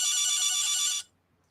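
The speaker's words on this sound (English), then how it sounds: "Should I answer that phone?" A telephone rings loudly during a studio talk show, one steady electronic ring tone lasting about a second before cutting off into near silence.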